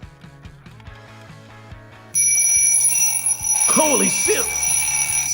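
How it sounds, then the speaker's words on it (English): A mechanical alarm clock rings close and loud in a harsh, continuous metallic clatter that starts abruptly after a quieter ticking lead-in, while people exclaim and talk over it. "That's how we set an alarm clock."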